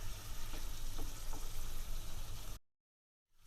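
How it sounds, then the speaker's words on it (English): Shrimp and garlic sauté in hot olive oil for a Spanish arroz a banda, giving a dense, steady sizzle with faint crackles that stops abruptly into silence near the end. "alongside the shrimp, we're also going to be adding in the garlic. And we're just going to saute all of this together."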